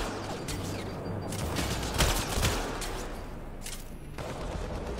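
Rapid bursts of gunfire from a sci-fi firefight in the video game Mass Effect Andromeda, a dense, continuous fusillade with sharper shots near the middle, layered over game background noise, with no talking.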